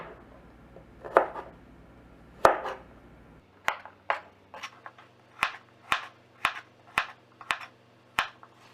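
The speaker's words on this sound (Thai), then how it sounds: "ส่วนก้านนะคะ ก็หั่นเฉียงค่ะ" A knife slices vegetable stems diagonally on a cutting board: a few slower cuts, then a steady run of crisp, evenly spaced chops, close and clear, no voices.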